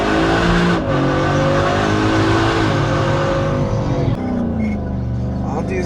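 A Whipple-supercharged Ford F150 pickup accelerates hard in a pull, its loud engine note climbing steadily with a brief shift near the end, up close and continuous with no talk.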